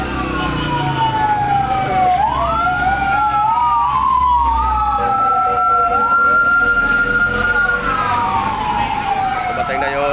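Fire truck siren wailing at a fire in Pasig, rising and falling in long sweeps over a busy outdoor crowd, loud and fairly close, with people talking underneath.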